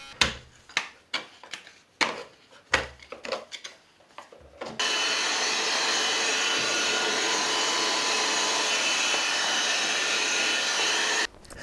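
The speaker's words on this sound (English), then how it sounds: "then I use the multi-tool to cut it" An oscillating multi-tool cuts a wooden architrave, with a plywood spacer matched to the kitchen flooring thickness. A run of close tapping and scraping knocks gives way to about six seconds of steady, loud buzzing that stops abruptly.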